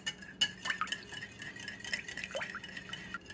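An egg is beaten into a chocolate mixture in a bowl, with a brisk, irregular clatter of a utensil stirring and scraping, close and fairly quiet, with no talking.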